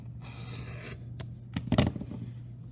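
Scissors cutting quilting fabric along a marked line: a soft rasp, then two or three short, crisp snips close by, the loudest near the end, with a steady low hum underneath.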